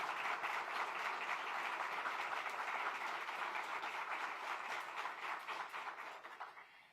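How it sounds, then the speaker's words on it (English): A university audience gives First Lady Jill Biden a round of applause, dense sustained clapping filling a large room, steady at first and then gradually tapering off, with no voices over it. "Give our First Lady a round of applause."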